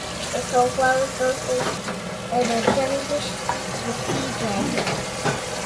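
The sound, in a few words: child splashing water while washing dishes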